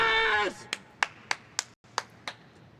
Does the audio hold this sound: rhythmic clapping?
yes